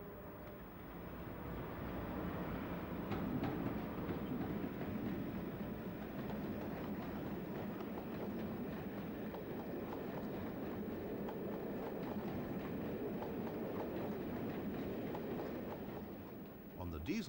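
A Class 86 electric locomotive and its train run past on the railway at Cambridge, giving a steady, fairly close rumble and rattle of wheels that holds for about fifteen seconds before fading.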